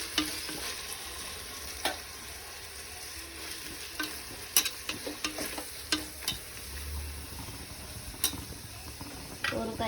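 Mint, ginger-garlic paste, green pepper and coriander leaves sauté in a pan, a low continuous sizzle punctuated by repeated sharp spoon scrapes and clicks at an irregular pace.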